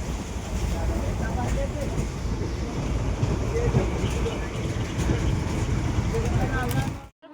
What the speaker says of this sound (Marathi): चालली बघा ट्रेन अशी आमच्या समोर गेला